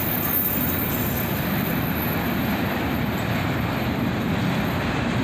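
A CSX autorack freight train accelerating out of town on the main track, a steady, dense low rumble of rolling cars that holds even and continuous throughout, with faint high squeal above.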